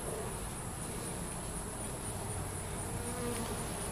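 A honey bee swarm in a top bar hive hums as a dense, continuous buzz of many bees, close and steady throughout with no talk.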